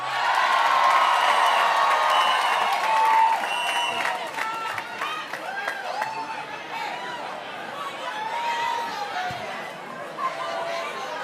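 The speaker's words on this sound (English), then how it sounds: "We've got a lively crowd tonight." A lively crowd at an African heritage reception claps and cheers with whoops and chatter, loud at first and then easing into a busy hum of voices and scattered cheering.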